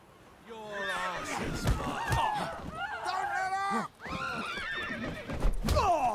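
A horse in The Witcher 3: Wild Hunt neighs and whinnies repeatedly in shrill, wavering calls, with hoof clatter and a heavy thud mixed in, close and loud while people talk in the scene.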